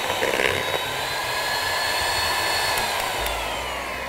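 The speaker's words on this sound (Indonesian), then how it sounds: "Lalu kita mixer dulu ini." An electric hand mixer whirs steadily through cookie dough with ground cashews mixed in, a loud continuous high-pitched motor drone with no talk.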